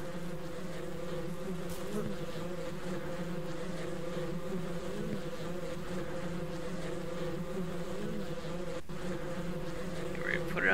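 Bees in a problem hive in Ranch Simulator drone continuously, a thick layered buzzing holding steady and close throughout with faint background noise.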